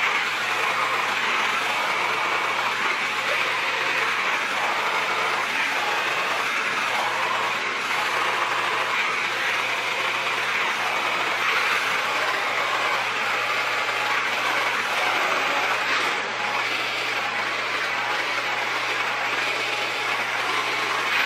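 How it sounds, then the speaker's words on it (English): A hair dryer fitted with a diffuser blows continuously for about twenty seconds while drying hair, giving a steady, loud whooshing hum with a faint constant motor tone underneath. No talking is heard. "I am going to now flip my head over so that I can diffuse it that way."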